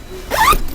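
A zipper pulled along the mosquito net and skin of an iKamper Skycamp 3.0 rooftop tent on a Santa Fe, one quick, close rasping zip lasting a fraction of a second.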